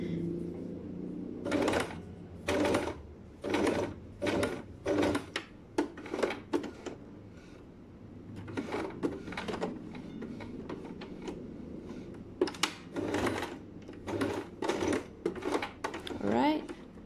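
Sewing machine stitching a straight line along a sleeve placket, running in repeated short bursts with brief pauses between, close and fairly loud, with soft talk in places.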